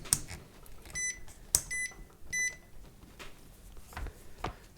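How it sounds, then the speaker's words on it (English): A multimeter doing a continuity test gives three short, clear electronic beeps in quick succession, set among soft clicks and handling taps at a workbench while a wireless FM microphone kit is being assembled. "So I can use my multimeter to do a little continuity test on that and figure it out."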